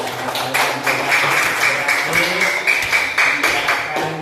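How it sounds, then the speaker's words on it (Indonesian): Classroom applause for a pupil's Quran recitation of surat Al-Ma'un, a dense steady patter of many hands clapping at moderate loudness, with some voices mixed in underneath. "Ya, tepuk tangan buat"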